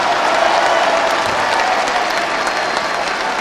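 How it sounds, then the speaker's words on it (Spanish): An audience at a public event with Mexico's president claps loudly for Esteban, a thick, continuous roar of applause that stays at full strength throughout and carries no speech. "A ver, un aplauso fuerte."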